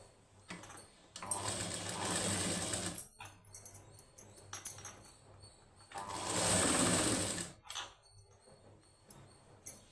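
Electric sewing machine stitching the high neck of a plain blouse, running in two clear bursts with a shorter run between them and quiet pauses.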